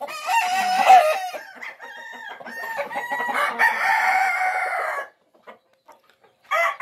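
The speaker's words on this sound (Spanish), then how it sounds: "¿De quién son los gallos, Irving?" Fighting roosters on a ranch crow and cluck together, several overlapping calls building into a loud crow, close by, then falling quiet with faint clucks at the end.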